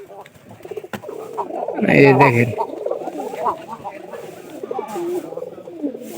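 Pigeon squabs coo in a home loft, soft repeated cooing with a louder burst near the middle, under someone talking briefly.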